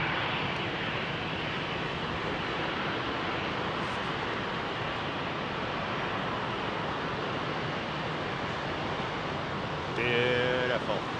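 Jet aircraft at London Heathrow Airport producing a continuous loud broadband engine roar from spool-up and departure, steady throughout, with a brief rise in tone near the end.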